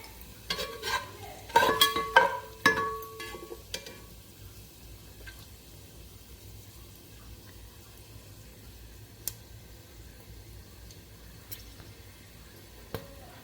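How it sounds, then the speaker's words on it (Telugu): Whole spices, including cardamom, drop into hot oil for biryani and crackle in a short loud burst of sizzling and stirring at the start, then fade to a faint simmer with a few isolated clicks. "కొంచెం యాలకులు వచ్చి ఉబ్బేంత వరకు వేగితే సరిపోతుందండి"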